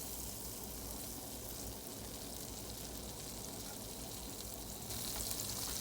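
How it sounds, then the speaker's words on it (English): Minced ginger and garlic frying in butter in a pan, a dense continuous sizzle heard close and steady throughout with no talking. "Cook the ginger and the garlic until you smell the aroma."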